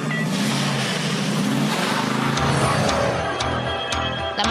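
A car engine runs loud and steady, rising as it revs and pulls away, with a continuous rumble of a vehicle driving off.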